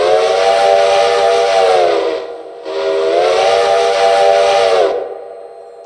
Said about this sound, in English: H or shift H is whistle low or high